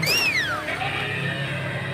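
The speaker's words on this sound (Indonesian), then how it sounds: "Wih, bisa ngomong dia. Wah, keren. Mainan kucing Tom." A talking Tom cat toy gives a short, loud electronic meow that rises and then slides down, followed by a quieter trailing tone and a faint background hum.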